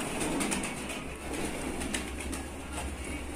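Shahjahanpuri breed pigeons gather on a rooftop in Bareilly, with soft cooing and wing flutters over a constant outdoor hum.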